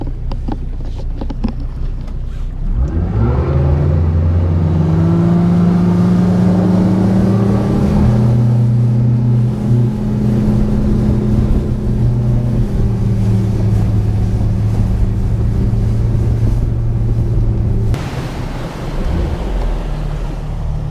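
A motorboat engine rises from idle into a loud, steady drone, with rushing water and wind noise throughout, then drops off near the end.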